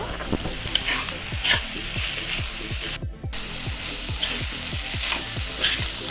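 Small diced homemade potatoes cook in a hot kadai over a medium flame, a continuous close sizzle broken by a regular rhythm of stirring scrapes about every half second.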